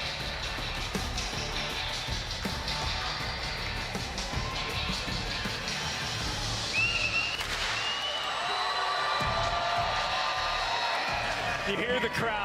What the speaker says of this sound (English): You hear the crowd. They've been cheering on our EU all day